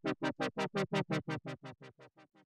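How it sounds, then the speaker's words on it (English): Synth tone in FL Studio with its filter swept by a sine-wave LFO, giving a smooth rhythmic wah pulse about six times per second that gradually fades in level, heard alone. "If it's a sine wave, it would sound like this."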